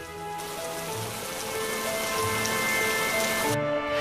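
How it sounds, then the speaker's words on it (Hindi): Steady rain pours onto a surface near farm fields, a constant close hiss of drops that holds for several seconds beneath soft background music, with no one talking. "जल्दी ही बारिश रुक जाएगी।"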